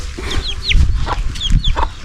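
A chicken being chased for catching clucks in loud, close, rapid squawks, several sharp bursts in quick succession with no talking.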